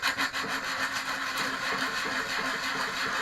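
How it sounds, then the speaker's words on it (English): Hand sanding wood with 80 grit sandpaper, a continuous close rasping scrub with a quick back-and-forth rhythm, steady and alone for a few seconds. "it's a warm bit of 80 grit, and all you basically do is just sand it to shape"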